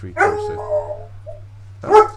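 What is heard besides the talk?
dog barking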